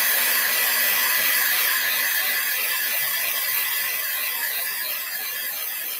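A hair dryer blows steadily and loudly up close over a sealed Easter decoration, a constant whooshing roar with a faint hum, easing slightly toward the end, with no voices.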